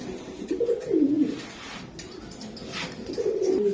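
A racing pigeon coos in low, rolling phrases, close and clear, with two main bursts separated by a short pause and faint background noise.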